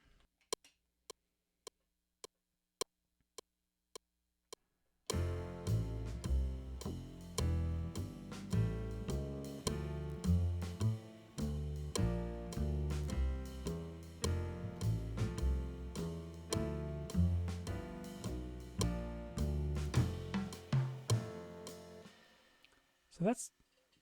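A bass guitar plays walking arpeggiated lines, with chord notes split up into steady low runs, after a few seconds of sharp metronome-like ticks, then fades out near the end.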